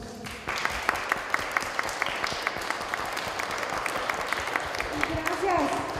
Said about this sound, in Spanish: Un aplauso para todos los músicos